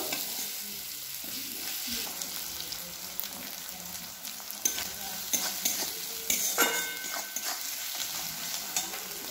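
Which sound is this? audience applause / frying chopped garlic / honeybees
frying chopped garlic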